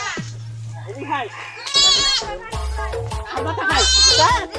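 A goat bleats in loud, wavering cries, two prominent calls about two seconds apart, while people talk nearby over a low steady hum.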